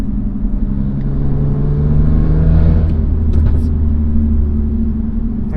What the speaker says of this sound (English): This has an aftermarket exhaust system. It's got pops and burbles.